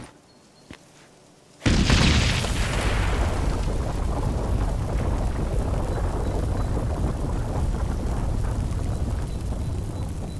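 A bomb explodes in The Witcher 3: Blood and Wine during a monster contract, a sudden loud boom after a near-silent moment that gives way to a long, dense rumbling roar that fades only slightly.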